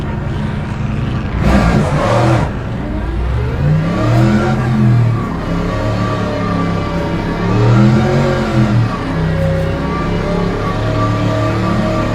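Several GT3 race cars idle and roll through a formation lap in the racing game Le Mans Ultimate, their engines droning steadily with rising and falling revs, near and continuous.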